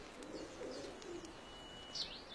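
Pigeons give soft, low cooing with a few faint chirps above it, fairly quiet against a steady outdoor background, and nobody speaks.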